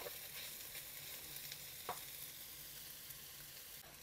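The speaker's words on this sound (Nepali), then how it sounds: "अब यो प्याजलाई पनि ब्राउन बनाउनु पर्छ पकाएर" Onions and garlic fry gently in a pan for a Nepali pork and rayo sag dish, a soft continuous sizzle at low level with one brief stirring scrape.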